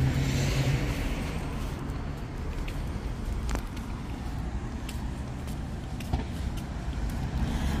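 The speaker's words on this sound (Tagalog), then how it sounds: "May mga sasakyan" Road traffic rumbles past continuously, a broad, moderately loud wash of car noise with a brief louder pass midway and no talking.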